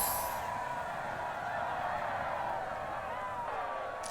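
At a chicken race in the video game Fable 3, chickens cluck and squawk over a steady bed of crowd noise, the calls clustering near the end.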